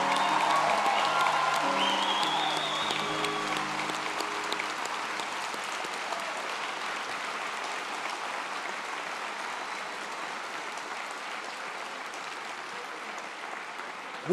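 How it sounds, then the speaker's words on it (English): Audience applause for 2023 Doctor of Dental Surgery graduates at a School of Dentistry ceremony, steady and fairly even clapping that continues throughout, with a few brief voices near the start. "Let's give a round of applause to our 2023 Doctors of Dental Surgery"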